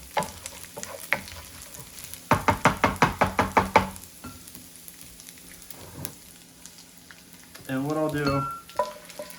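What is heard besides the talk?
bacon frying in grease in a pan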